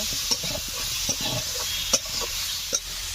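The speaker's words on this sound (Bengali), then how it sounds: "ভালো করে কষে নেব।" Hilsa fish masala with dry chilli powder frying in a pan, a steady sizzle broken by four or five sharp scraping stirs of a spoon, close by and without voices.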